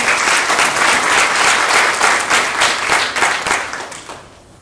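An audience at a spoken sermon claps loudly in a dense, close burst of applause that holds strong before fading out toward the end.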